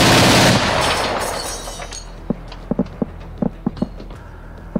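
Anti-aircraft guns at a frontline position open with a heavy roaring burst, then fade into a series of sharp, evenly scattered single shots echoing at middle distance.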